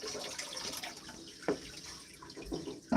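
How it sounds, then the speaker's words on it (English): Water runs from a faucet into a tub with a steady, moderate rush, broken by a few small splashes and clunks. "we're filling up this water tub."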